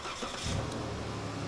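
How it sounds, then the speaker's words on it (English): A 2011 Dodge Grand Caravan with a replaced engine cranking and catching, a steady mid-level engine rumble with a brief rise near the start, close by and with no talk. "now start the car."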